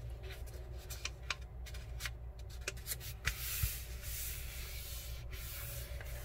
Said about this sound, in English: if it's not lined up, you need to adjust the paper